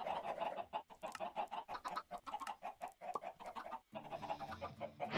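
Chickens cluck over and over in the Sky Odyssey video game. The calls come as a dense, steady run of short clucks that carries on for the whole span with no talking over it.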